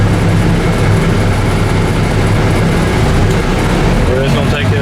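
A 1989 Volvo White GMC dump truck engine drives in first and second gear, a loud, steady low diesel rumble close by, continuous throughout with a slight rise near the end.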